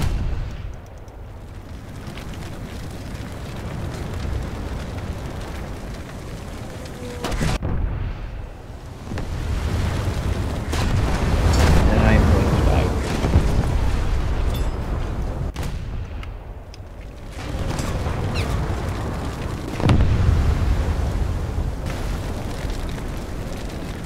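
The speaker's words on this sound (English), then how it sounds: "Like the first lucky ammo detonation I've had" Heavy, rumbling explosions and booming artillery-like blasts from a warship's ammunition detonation in War Thunder, rolling on continuously with several louder swells over a constant low roar of naval battle.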